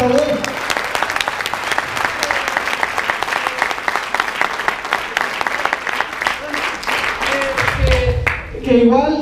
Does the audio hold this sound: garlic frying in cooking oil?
no